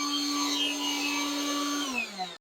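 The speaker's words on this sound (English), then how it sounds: "Use the blower and remove all the dust." A blower roars steadily as it clears dust from around a house foundation, its motor whine holding constant before dropping in pitch as it winds down near the end.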